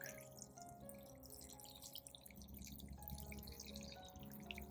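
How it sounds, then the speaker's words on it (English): Water splashes and drips steadily while newly planted summer crops get a thorough soak outdoors, with a faint low hum running underneath. Continuous and soft, with no voices. "Giving everything a good soak."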